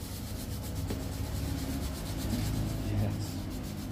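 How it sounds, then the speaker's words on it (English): Steady close-up scrubbing and rubbing during an ASMR barber session, a continuous coarse friction texture with slight swells and no pauses. "Scrubbing."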